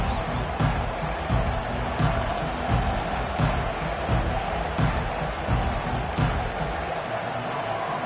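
Steady stadium crowd roar from the College Football 25 video game, a dense, continuous wash of noise with faint cheering swells and occasional thumps, with no break throughout.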